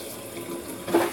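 Warm water runs steadily from a tap, a soft continuous splash that grows louder and fuller toward the end as the flow strengthens or hits the basin.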